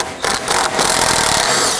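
A socket tool whirs steadily while loosening a 10mm bolt on a 2018-2024 Toyota Camry 2.5L during cooling fan removal, a close, continuous mechanical buzz with brief pauses near the start.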